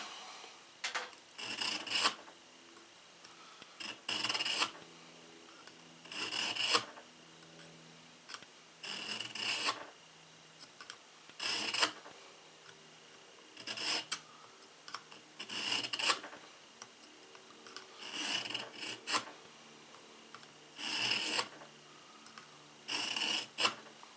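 A chipped kitchen knife blade rasps repeatedly across a Smith's knife sharpener in long, even strokes with short pauses between, close up and steady, with no voices.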